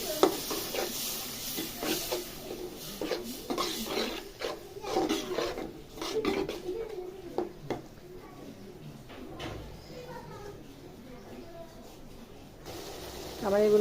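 Shrimp cooks with turmeric and chili in a pan, a soft sizzle under repeated scraping and stirring strokes that fade toward a quieter simmer, with a voice speaking over part of it.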